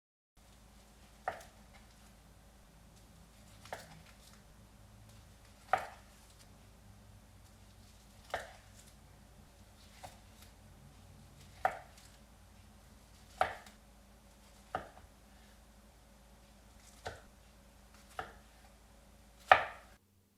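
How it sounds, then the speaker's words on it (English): Knife slicing through a vegetarian sushi roll on a cutting board, about ten sharp, isolated chops spaced a second or two apart, close and fairly quiet against a near-silent room. "cut it right down the center in half first, then take each half and cut it into halves again, and then each quarter into halves again"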